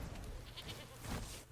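A goat card in the MTG Arena video game lets out a brief, faint bleat over quiet background game ambience, with no speech.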